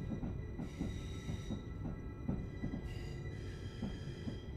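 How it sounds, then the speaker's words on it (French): Trains rolling alongside on parallel track in Train Simulator, route Frankfurt to Koblenz, with rhythmic wheel clicks over rail joints, a steady rumbling drone and faint squealing tones, fairly close and continuous. "il y a plusieurs trains qui roulent à côté de nous"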